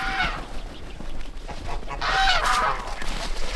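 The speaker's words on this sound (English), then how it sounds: "Ducks everywhere." Ducks on a snowy winter farm give repeated close, loud quacks and clucking calls in irregular bursts, with fowl sounds overlapping throughout.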